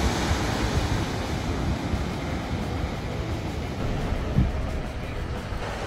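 Big ocean surf rolling in at Praia do Norte, a steady broadband roar of breaking waves with wind buffeting the microphone, constant and close, no talk.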